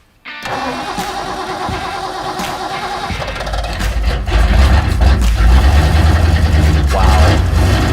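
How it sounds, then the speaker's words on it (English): A 1964 Ford Galaxie big-block engine cranks and fires, then runs roughly and loudly up close, its rumble growing heavier and fuller partway through and holding a steady, throbbing idle. "Next time we start it, if the carburetor works, we'll be able to keep it running."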